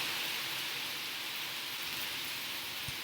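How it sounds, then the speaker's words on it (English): Steady rain pours down, a dense, even hiss of drops with no pauses, close and constant throughout. "Boy, it's really raining here right now."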